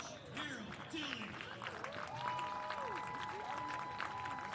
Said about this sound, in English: let's give a big round of applause to Coach Harold Tilley